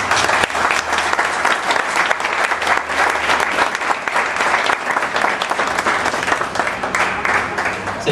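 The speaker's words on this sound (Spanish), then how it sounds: "Demos un aplauso." Sustained applause from a congregation at a Spanish-language church wedding, dense steady clapping filling the whole stretch at a constant loud level with no talk over it.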